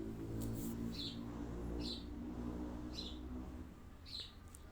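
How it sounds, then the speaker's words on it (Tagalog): Birds chirp outdoors in a Philippine home setting, with four or five short, bright calls spaced about a second apart, faint over a steady low hum of background noise. "ang ganda ng huni ng ibon. Narinig niyo po ba?"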